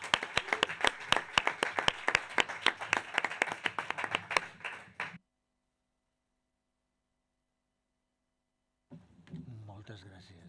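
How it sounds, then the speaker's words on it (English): Audience at an economics conference clapping for online experts, a few dozen sharp, close claps in a fast uneven run for about five seconds, then silence before faint voices resume. "I ask for a big applause for them,"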